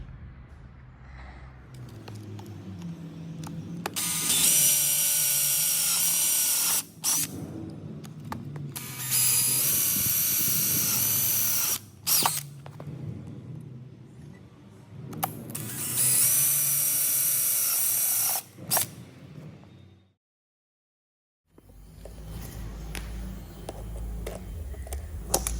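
Riveting flat bar onto rubber during rig preparation, with three long bursts of loud, high-pitched power-tool whine separated by short pauses, then a brief silence and another rougher mechanical burst near the end, and no speech.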